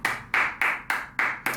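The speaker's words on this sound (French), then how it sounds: "j'ai applaudi Goop pour la drive et pour le cheval pour le prix d'Amérique" Six crisp hand claps, evenly spaced at roughly a third of a second apart, close and clear with nothing else behind them.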